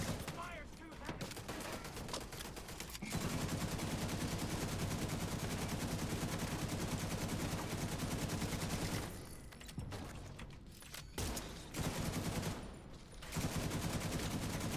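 Heavy, continuous gunfire in The Division 2 pours out in dense overlapping volleys, broken by a few short pauses before the shooting resumes.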